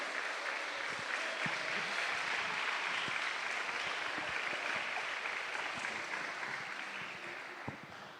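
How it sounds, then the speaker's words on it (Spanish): Sustained applause from an online church meeting audience, steady broadband clapping that holds loud for about eight seconds and then starts to taper off, with no talking over it. "Dale un fuerte aplauso a Dios."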